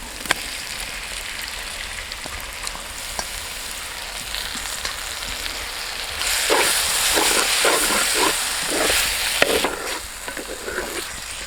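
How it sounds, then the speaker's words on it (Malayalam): Chopped tomato drops onto softened onions in a hot pan. A gentle sizzle runs on its own at first, then the frying turns louder and sputtering and keeps crackling steadily near the microphone. "അതിലേക്ക് നമ്മൾ അരിഞ്ഞു വെച്ചേക്കുന്ന തക്കാളി ഇട്ട് കൊടുക്കുക."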